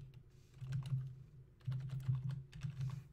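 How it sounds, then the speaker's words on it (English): A computer keyboard clatters with bursts of quick, close keystrokes, broken by short pauses, in an otherwise quiet room. "Alright, sorry, I'm done typing now. Hopefully that wasn't too loud."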